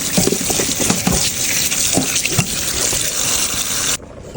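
Tap water gushes steadily into a sink as fish are cleaned, a loud continuous splashing wash that cuts off abruptly near the end, with no voices.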